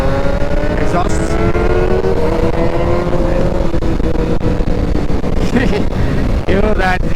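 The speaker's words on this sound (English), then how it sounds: "Hear that ZX6R" A Kawasaki ZX6R superbike fitted with an Austin Racing exhaust revs loudly and continuously, its rising and falling engine tones sustained throughout amid a busy outdoor gathering of riders, with other engines and voices in the background.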